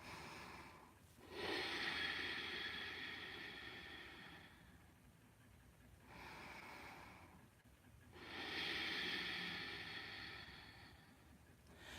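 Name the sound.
ujjayi breathing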